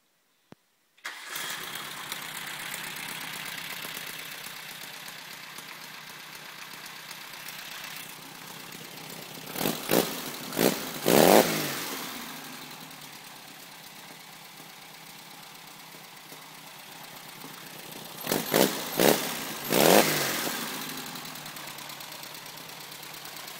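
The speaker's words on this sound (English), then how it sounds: "1600 cc, dual port, dual carbs, all fresh through and through" A freshly rebuilt VW 1600cc dual-port engine with dual carbs cranks over and catches, then settles into a steady, lumpy idle, with two short clusters of revving blips partway through before it drops back to a smooth, even run.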